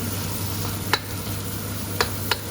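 Korat-style chili paste stir-fries in a pan as shallots go in, producing a steady sizzle under a low hum, with three sharp stirring clinks and no talking.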